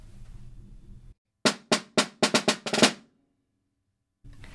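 A quick burst of crisp snare drum strokes, about seven in a row with alternating right-left sticking and accents, played alone between stretches of low background noise.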